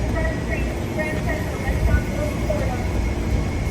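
A subway train rumbles steadily, a close, loud low roar with faint higher whines drifting over it, heard from on board during an e-scooter trip in 2022.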